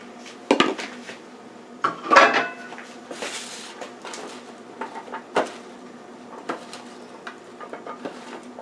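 Red and green peppers being mixed into a pan with squash and onions, a run of clinking utensil knocks and scrapes against the pan, irregular and close, with quieter stirring between.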